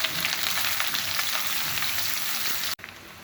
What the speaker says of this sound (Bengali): পেঁয়াজটাকে আমি একটু ভেজে নেব।